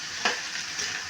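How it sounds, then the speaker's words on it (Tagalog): Clams (tulya) sautéing in their own oil in a pan, a soft steady sizzle with a couple of sharp stirring clicks, close and alone. "Ginisa na sa sarili niyang mantika."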